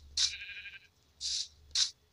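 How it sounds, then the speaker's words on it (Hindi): Sheep in the mobile Minecraft PE game bleat three times, a long wavering call followed by two shorter ones, close and clear with no talk over them. "और भेड़ बकरे की आवाज़ भी आ रही है"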